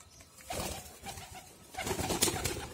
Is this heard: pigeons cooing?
yes